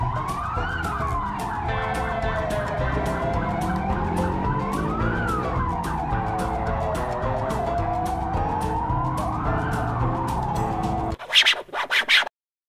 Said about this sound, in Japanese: 救急車とかな、